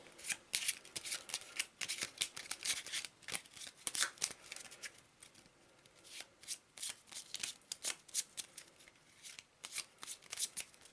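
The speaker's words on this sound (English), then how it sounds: "So let's give it a shuffle." A deck of game cards for the Arkham Horror board game is shuffled by hand, giving repeated crisp riffling bursts in quick irregular bunches over roughly ten seconds, close and fairly quiet, with no talking.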